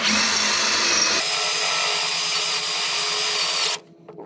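A power drill boring a hole in wood runs loud and steady for several seconds, its pitch shifting as it bores, then cuts off abruptly near the end.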